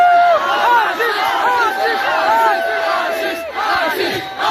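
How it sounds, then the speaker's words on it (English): Loud crowd at a stand-up comedy show cheering and whooping, a dense sustained roar of many voices with shouts rising above it throughout. "Make some noise for Slay Point, everybody"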